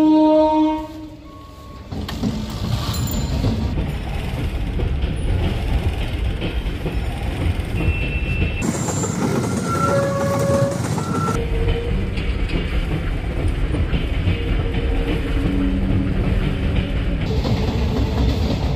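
A Tarakeswar local train stands at a railway platform with a loud, steady rumble of wheels and machinery throughout, and brief tonal horn-like notes at the start.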